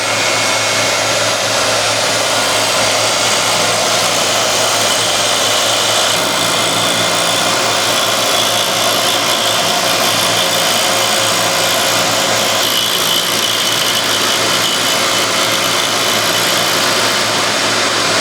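A lathe runs at high speed cutting a 12 TPI thread with a Hope threading jig, producing a loud, steady motor whine and cutting hiss that holds nearly unchanged throughout, with no voices.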